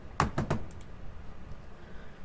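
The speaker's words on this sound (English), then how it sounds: "The sound of typing can be heard." A short burst of three quick keyboard taps, then a couple of fainter clicks before quiet background hiss, from the video game Nikke: Goddess of Victory.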